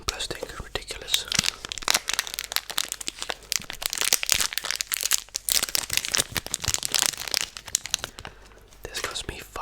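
Plastic wrapping around mochi ice cream is crinkled and torn open close up, giving dense crackling, rustling bursts that continue throughout with brief pauses, while a voice talks softly over it.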